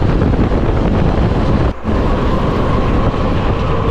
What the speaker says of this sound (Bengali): ট্রেন যাচ্ছে, আমি জানি না ক্যামেরায় কতটা ক্যাপচার করছে